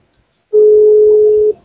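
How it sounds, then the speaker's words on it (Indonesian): A mobile phone outgoing call gives a single steady ringback tone lasting about a second, loud and clear after a short silence. "Mudah-mudahan dia bisa ngangkat HP ini."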